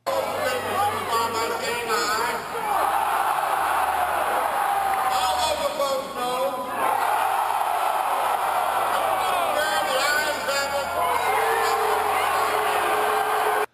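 Convention delegates shouting from inside the crowd, recorded close on a cell phone: a dense, continuous roar of voices and yells with babble throughout.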